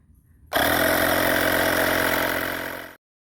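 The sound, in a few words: portable battery-operated air compressor running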